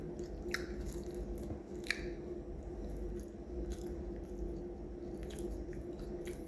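Someone bites and chews a large Iranian khubuz flatbread at breakfast, with soft, sporadic crunches and squishy mouth noises over a low background hum.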